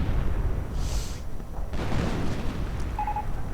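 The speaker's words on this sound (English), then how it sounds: "Artillery getting called in on the MG bunker" Artillery fire pounds a machine-gun bunker in a video game, a steady rumbling barrage of low booms with a brief faint tone near the end.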